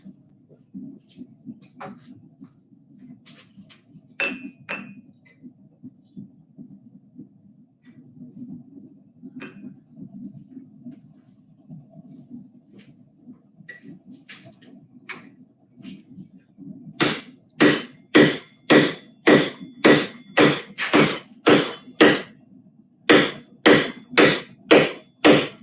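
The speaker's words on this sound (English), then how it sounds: "We're drifting again. Yeah. On the big anvil." A drift hammered on a big anvil during forging: sparse taps and a low rumble first, then long runs of loud, sharp, evenly spaced ringing hammer blows up close, with a short pause between bursts.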